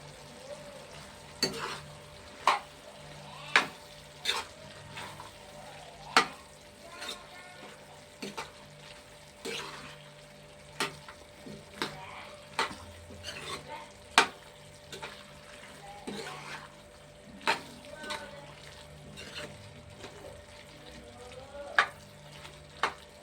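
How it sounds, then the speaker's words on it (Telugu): A frying dish is stirred in a pan after garam masala powder goes in, with a low continuous sizzle broken by repeated sharp clanks of the spoon against the pan at an uneven, steady pace. "గరం మసాలా పొడి వేసాను కదండి, కలుపుతాను"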